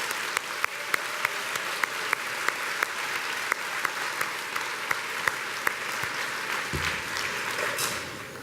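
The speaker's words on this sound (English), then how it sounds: "giving them a big round of applause" Sustained applause from a seated indoor audience honoring volunteers at a senior service awards evening: a dense, even wash of clapping with a few louder nearby claps at regular intervals, continuing without pause.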